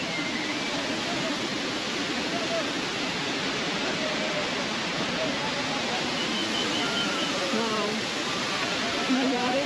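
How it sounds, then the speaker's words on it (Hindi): A large mountain waterfall on the Pahalgam route of the Amarnath Yatra roars as a steady, even broadband rush, loud and unbroken, with voices talking over it. "कितना बड़ा झरना है।"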